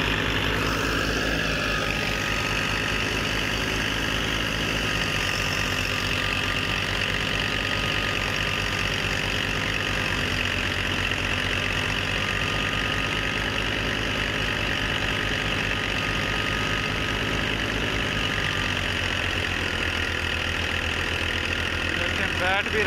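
A Fiat 480 tractor, 2012 model, runs a thresher fitted with a 96 cutter, its engine droning loud and constant with a steady knocking throb and mechanical clatter throughout, voices faintly audible beneath the machinery.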